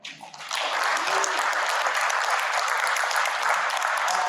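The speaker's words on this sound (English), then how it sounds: "can you guys clap if you got something out of this panel?" Audience at a roofing industry panel discussion in Dallas bursts into loud, sustained applause that starts abruptly and holds steady as a dense wash of clapping from the whole room.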